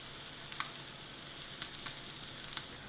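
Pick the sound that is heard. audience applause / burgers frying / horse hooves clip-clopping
burgers frying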